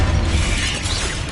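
Confringo blasting curse in Hogwarts Legacy, a loud, dense burst of shattering, crackling blast noise lasting about a second and a half with no voice.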